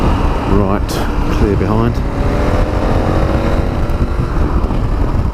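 A 2017 KTM 1290 Super Adventure S motorcycle accelerates onto a dual carriageway, its engine note climbing in pitch under steady wind roar while a rider talks briefly over it.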